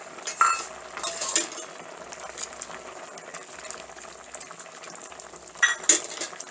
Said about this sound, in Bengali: তার মধ্যে আমি এই কই মাছ ভাজাগুলো দিয়ে দেব